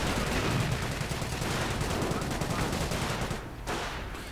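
Dense gunfire crackles continuously through a WWII strategy video game battle, with overlapping shots and bursts at steady loudness until a brief lull near the end.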